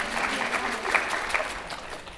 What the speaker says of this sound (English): Big round of applause for those groups again.